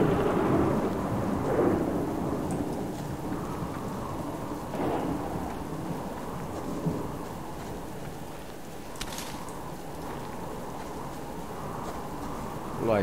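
Thunder rumbles through steady rain outside a chicken coop, with rolling low booms and a constant wash of falling rain close by.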